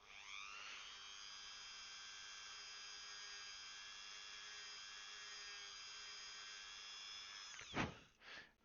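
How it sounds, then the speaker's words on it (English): A small Dremel rotary tool roughens the surface of an LED to diffuse its light, a high steady whine running continuously for nearly eight seconds before it cuts off, close and alone with no talk. "I have learned another trick to diffuse LED lights, and that's to take your little Dremel or whatever."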